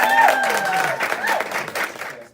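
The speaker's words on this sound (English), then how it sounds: "I need you guys to actually give a round of applause for Elijah Clay." A studio audience claps for a guest on a faith-oriented talk show, a dense burst of applause with some voices and cheers mixed in, loud at first and tapering off after about two seconds.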